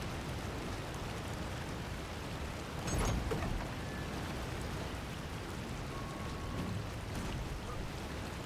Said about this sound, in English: Get away from the waterfall.